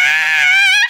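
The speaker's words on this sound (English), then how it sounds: "sometimes you just gotta scream" A single loud, sustained high-pitched scream rings out close to the microphone for nearly a second, then cuts off abruptly.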